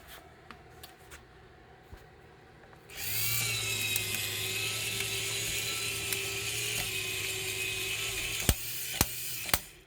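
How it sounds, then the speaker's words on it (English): A restored 1968 Cadillac power antenna motor, bench tested, starts up and runs with a steady mechanical whir and hum as the 36-inch mast extends, with a few sharp clicks near the end as it reaches full extension. "And the unit rises with the clutch becoming activated, and this is the full 36-inch extension of the power antenna"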